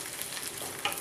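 Chopped ginger sizzles and crackles in a hot pan of oil while cooking vegetable paneer fried rice, a dense, steady frying hiss up close with a small stir-like clatter near the end.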